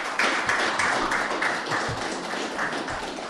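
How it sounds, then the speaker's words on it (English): Studio audience clapping on a morning radio news show, a steady round of applause with dense, continuous hand claps lasting throughout at moderate loudness. "I think they need a round of applause for that"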